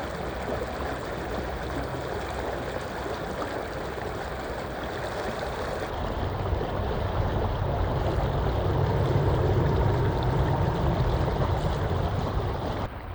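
Continuous rushing water of a river on a sunny day near old tunnels, stone culverts and trestle remains, a steady wash that grows slightly louder partway through, with no talking.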